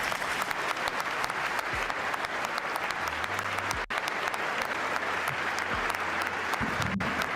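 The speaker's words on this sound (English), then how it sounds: "Why are they cheering?" An audience at the State of the Union bursting into sustained applause and cheering in a large chamber, a dense steady roar of clapping from start to finish.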